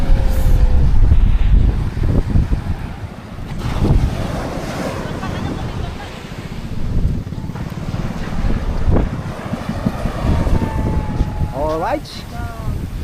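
Out on open sea, a boat passes while waves slosh and wind buffets the microphone, the motor blending into a loud, rough rush of water, with people calling out briefly over it.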